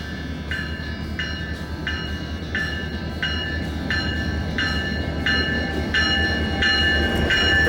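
A Montana Rail Link gas local freight train works at Thompson Falls, Montana, with a steady low rumble of rolling cars and a regularly repeating ringing tone pulsing over it.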